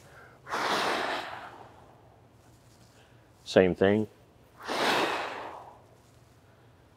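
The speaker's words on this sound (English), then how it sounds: "have a nice relaxed, elongated breath, and exhale when you hit that ball" A long, airy exhale is heard while hitting a backhand drive, then a brief spoken phrase, followed by another slow, relaxed breath out, close and soft.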